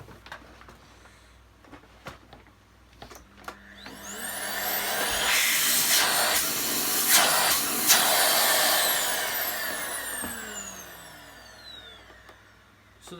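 A VAX Mach 8 vacuum cleaner motor whirs up to speed, roars steadily at close range for several seconds, then winds down, with a few clicks around it.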